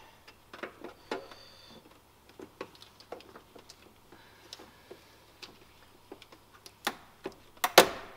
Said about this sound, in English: Just remove the damn hose clamp now.